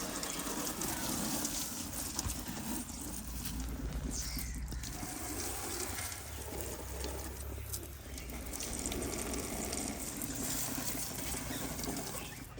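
Water splashes and patters steadily while a painted object is washed outdoors in a Punjab village, a continuous wet rinsing sound at close range with no talk.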